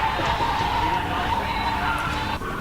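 Car tires squeal and skid with wheel spin on a track as the revs climb, a loud sustained screech over engine drone from a comparison between an EcoBoost and a V8.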